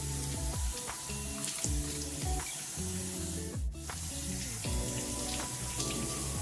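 Pineapple leaves being washed under a running tap, with a constant loud spray of water and repeated splashing and sloshing as the leaves are turned in the stream, close up and with no voices.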